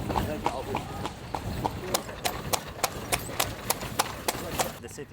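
Horse hooves clip-clop at a steady trot while pulling a carriage through the streets of Edfu, Egypt, with a crisp, even rhythm of sharp knocks and traffic noise around them.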